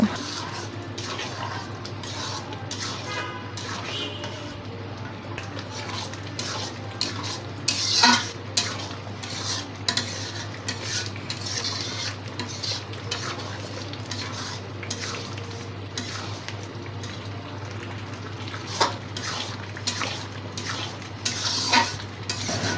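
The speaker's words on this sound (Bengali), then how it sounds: "এবারে আমি দিয়ে দেব সিদ্ধ করা ভাজা ডিমগুলো আবারও আমি ভালো করে কষিয়ে নেব" Boiled and fried eggs with potatoes cook in a pot with tomato as a spoon stirs and scrapes against the metal over a low, continuous sizzle, with occasional louder clinks.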